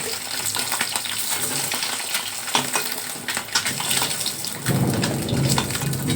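Steady heavy rain pours down with scattered rumbles of thunder and lightning, and the downpour grows louder and denser near the end.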